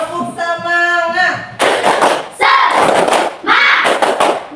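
A primary school class claps in rhythmic group bursts while children's voices chant along, loud and close, with a sung voice opening before the clapping starts.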